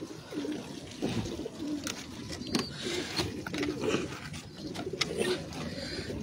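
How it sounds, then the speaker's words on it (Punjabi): Pigeons on a rooftop coo in soft, repeated rounded calls spread through the scene, with rustling and small clicks nearby and faint background noise. "ਥੋੜ੍ਹਾ ਜਿਹਾ ਕੋਈ ਕਬੂਤਰ ਦਾਣਾ ਪਾਣੀ ਕਰ ਰਹੇ ਨੇ"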